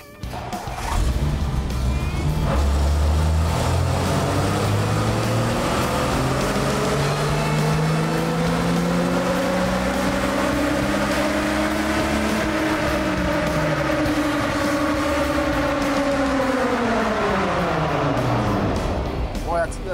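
A 1964 Ford F350 flatbed truck engine revving hard through a dyno pull, a loud continuous roar whose pitch climbs steadily, holds high, then drops away near the end, with voices in the background.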